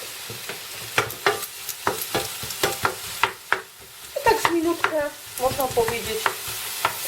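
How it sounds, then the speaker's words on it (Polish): Tomatoes frying with bacon in a pan for scrambled eggs with onion, giving a steady sizzle under repeated scraping and stirring taps of a utensil against the pan, close and fairly loud, with a brief spoken word. "żeby one się tutaj smażyły, grzały te pomidorki."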